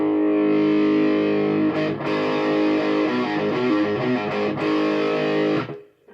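Power chords of root and fifth played on a heavily distorted electric guitar, several loud sustained chords struck in sequence with brief breaks between them, ringing out alone and fading at the end.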